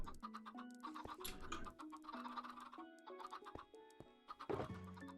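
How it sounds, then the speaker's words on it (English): Minecraft chickens cluck repeatedly in the video game, quiet overlapping bursts with a bleating sheep mixed in, and no talking. "I need to get some chickens in here now."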